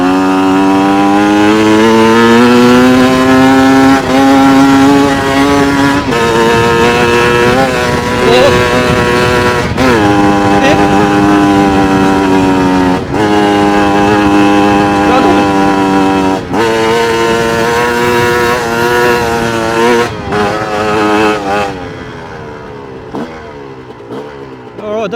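A Chinese dirt bike engine drones loudly and continuously as it climbs a steep hill, the pitch rising within each gear and dropping sharply at the several upshifts.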